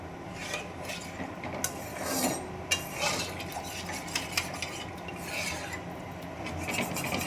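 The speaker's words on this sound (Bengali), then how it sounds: "সমস্ত মশলাগুলো খুব ভালোভাবে নেড়েচেড়ে মিশিয়ে নিচ্ছি।" A spoon stirs ground spices, including cumin powder, with a little water in a pan, making repeated rasping, rubbing scrapes and light metallic knocks against the pan at close range, with no talking.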